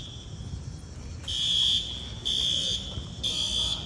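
A fire alarm in an apartment building sounds in three loud, piercing tonal bursts, each about half a second long, over a steady low background rumble.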